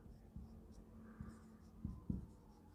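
Quiet pen or chalk strokes write a line of notes during a class-10 science lesson, a few soft scratching strokes with two firmer taps near the end, no talk.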